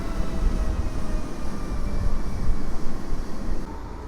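A passenger train bound for Sochaczew rolls into Warszawa Włochy station, a steady low rumble of wheels and motors with faint tonal whine, growing slightly louder before easing off.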